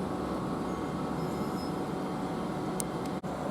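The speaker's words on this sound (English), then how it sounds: "now departing is the 1318 GWR service to London Paddington" A GWR passenger train departing Goring & Streatley station toward London Paddington, heard as a steady broad rumble and rolling noise that stays even throughout, with a brief high squeal near the end.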